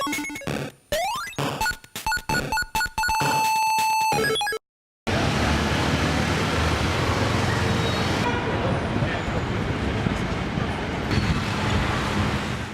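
Busy city avenue traffic noise near a hippie street fair, with a dense, steady roar of cars and occasional horn toots that runs continuously after a brief sequence of separate sounds at the start.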